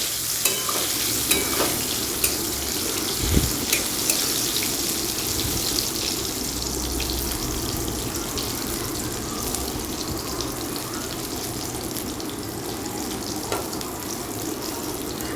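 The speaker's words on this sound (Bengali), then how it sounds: "কাঁচকলাগুলোকেও লাল লাল করে ভেজে নিব" Salted, turmeric-coated green plantain pieces frying in oil, a dense, steady sizzle that crackles throughout, close and fairly loud, with occasional stirring knocks and no voices.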